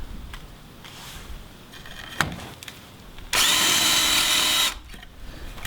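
Power drill boring into a wooden Dutch door for a tiny house build, a loud steady whir lasting over a second after quieter handling noises and a sharp knock.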